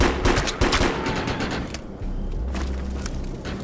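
Gunfire in the Defiance video game: a rapid string of sharp shots in quick bursts, loud and close, with a short gap before a few more reports near the end.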